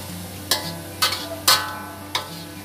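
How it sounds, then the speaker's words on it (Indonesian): A tofu stir-fry is stirred in a wok, with four sharp utensil knocks against the pan spaced unevenly over a low, steady background hum. "ini kita aduk aja sampai semua bumbunya tercampur rata tanpa air ya"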